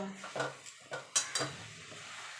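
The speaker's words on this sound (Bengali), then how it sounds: "এবার ভালো করে মিশিয়ে নেব" Shredded coconut mixture stirred in a pan with milk solids or milk powder, a few close scraping strokes and light clinks over a faint sizzle, quieter near the end.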